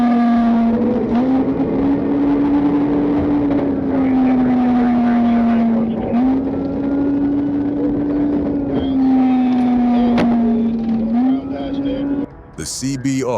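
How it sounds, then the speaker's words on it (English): A 2021 Honda CBR 1000RR sport motorcycle screams past at very high speed, its engine holding a loud, steady high-revving whine that shifts pitch several times before a brief burst of noise at the end. "spotted a 2021 Honda CBR 1000RR blasting past at breathtaking speed"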